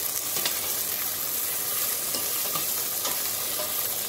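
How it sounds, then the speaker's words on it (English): Okra frying in a pan for masala bhindi curry, a constant close sizzle with periodic scraping stirs of a spatula, no voices. "we are first going to fry the okra"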